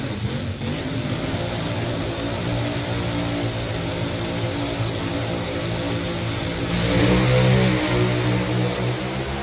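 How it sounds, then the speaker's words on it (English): Top alcohol funny cars at a drag strip, heard as a loud, constant engine roar with rumbling bands that swell near the end of the run, at a distance and without talk. "Good looking drag race"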